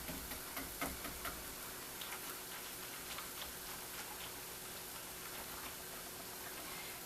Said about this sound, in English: I'm going to keep whisking this until the gravy is ready